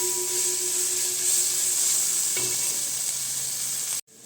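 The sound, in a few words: sautéing chicken rice ingredients in oil in a pan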